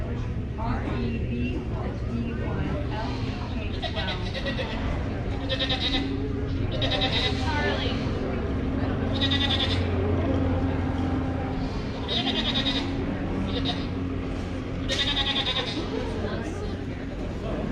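Goats bleat repeatedly at a 4-H dairy show, with calls rising every few seconds over a steady murmur of people talking and crowd babble in the show barn.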